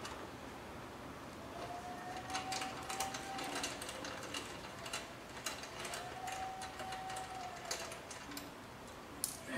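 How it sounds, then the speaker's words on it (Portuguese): A wrench loosens a shock absorber bolt on a Yamaha XV 250 Virago motorcycle, giving quiet, rapid metallic ratcheting clicks in an otherwise faint setting. "a gente vai tirar aqui o parafuso do amortecedor"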